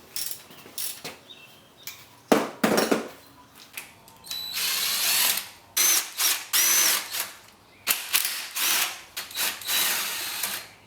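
An impact wrench works the engine bolts on a 2004 Chevy Impala during a head gasket job, firing in short, loud, rattling bursts separated by pauses, with some clanking of tools in between.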